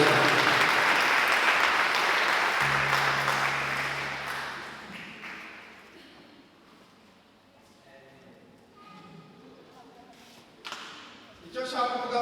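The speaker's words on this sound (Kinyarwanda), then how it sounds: "amashyi menshi mu izina rya Yesu" A church congregation applauds loudly, and the dense clapping fades out over several seconds. A sustained tone sounds within it, and a voice speaks afterward.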